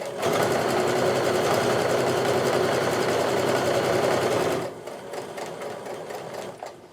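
Sewing machine stitching a quarter-inch seam on a half-square-triangle quilt, a fast steady whirring run close up for about four and a half seconds, then slowing to a quieter, lighter stitching pace.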